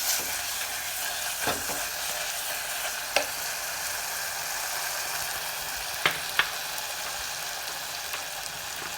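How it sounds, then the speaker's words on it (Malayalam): Food frying in a covered pan for a Kerala home lunch gives a dense, constant sizzle, with a few faint clicks of a spoon stirring against the pan. "കുത്തിട്ട് ഇളക്കിയിട്ട് അത് ഇളക്കി കൊടുക്കണം"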